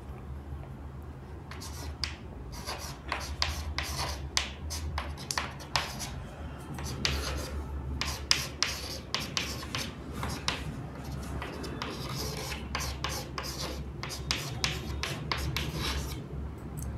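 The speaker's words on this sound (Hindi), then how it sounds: "भाई अपन लिख देते हैं क्वेश्चन नंबर 2।" Pen or marker writing out a math question by hand during a live fractions class, producing a steady run of quick scratchy strokes and taps close up, with no talking.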